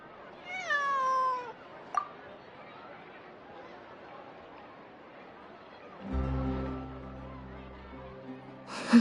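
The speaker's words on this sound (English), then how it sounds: "I believe this cat belongs to me." A cat meows in the Genshin Impact video game, one clear drawn-out meow near the start, followed by quiet ambience and a soft burst of background tones later.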